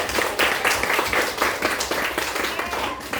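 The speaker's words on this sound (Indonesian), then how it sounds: "Tepuk tangan dulu untuk Cynthia." A class of children clapping together for a classmate, a brisk burst of many hands patting in a quick, uneven rhythm that fills the room.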